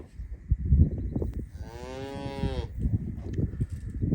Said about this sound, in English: The only thing I'm worried about, though, is from the cows and that little baby right there.